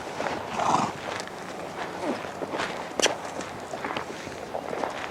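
A horse is ridden during its first ride after ground work, with steady hoofbeats and footsteps over loose ground. A short snort or whinny-like sound comes in early, over a continuous outdoor background.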